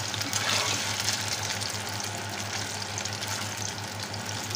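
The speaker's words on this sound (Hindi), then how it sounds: "इसी के साथ हम दो हरी मिर्च भी फ्राई कर लेंगे" Taro root and a couple of green chilies frying in a pan give off a steady, dense sizzle of hot oil, close and even throughout, with a low hum underneath and no talking.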